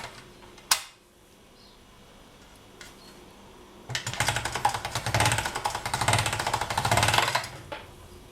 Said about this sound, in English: I'm going to roll this out on my thickest setting on my pasta machine